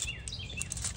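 Birds chirping outdoors in a busy chorus, quick bright tweets and short descending calls repeating throughout, fairly close, over a low background rumble.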